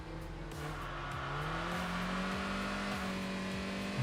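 Engine of a boxy Skyline-style car in the Enthusia Professional Racing video game, sliding through corners: a steady, loud engine drone with rising and falling pitch and squealing tires running throughout, no talk.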